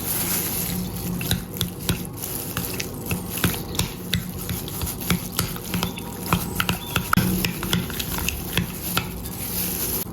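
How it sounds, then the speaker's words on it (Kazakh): Butter, an egg, sour cream and mayonnaise being stirred together in a bowl for a salmon quiche dough, a close run of rapid scraping, clicking strokes with a steady rhythm and no talking. "Осыны жақсылап араластырамыз."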